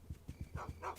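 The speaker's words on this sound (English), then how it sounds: "with the dogs, which are actually called slogs" Slogs, dog-like creatures in the video game Munch's Oddysee, barking in quick repeated low yaps, several short close barks in rapid rhythm within about a second, quiet in level and with no talk.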